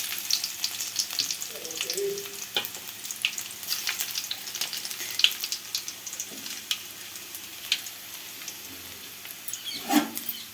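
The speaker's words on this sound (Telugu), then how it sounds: "నూనె పోసేసుకున్నా వెల్లుల్లిపాయలు వేసేసుకున్నాం" Chopped garlic sizzles steadily in hot oil in a pan while cooking ridge gourd fry, with continuous crackling, small pops and occasional stirring scrapes, close and moderately loud, with no talking.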